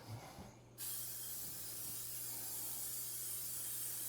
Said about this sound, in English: We're going to give it a good coat of spray,